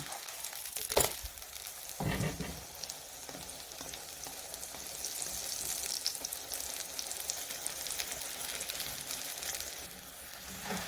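Potatoes and eggs frying in a pan as a crepe-style breakfast, a continuous close sizzle that swells and eases, with a couple of sharp knocks near the start.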